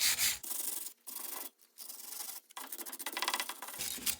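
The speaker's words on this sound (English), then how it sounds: "Now I'm going back and giving it the wire brush." A wire brush scrubs the front brake hub of a 2007–2008 Honda Fit in several rough, rasping strokes with short pauses between them, loud and close, with no talking.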